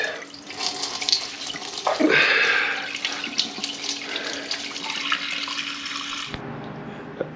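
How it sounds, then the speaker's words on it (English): Coolant draining out of a Kawasaki ZRX1200R motorcycle engine, a steady close splashing pour of liquid like a running tap that grows louder and brighter partway through, then drops to a softer trickle near the end. "Just drain that coolant out. Here she comes. Coolant is being drained."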